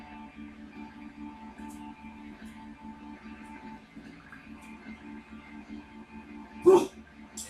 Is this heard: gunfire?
no